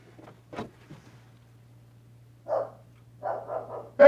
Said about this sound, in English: Stop barking outside my studio, dog.